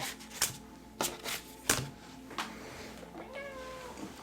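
A house cat meows a few times indoors, short tonal calls with a rising, wavering final meow, amid scattered thumps and clatter from items hitting the floor.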